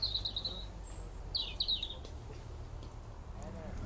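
Small birds chirp and trill in short bursts outdoors in an apple orchard, faint and somewhat distant over a low steady background rumble.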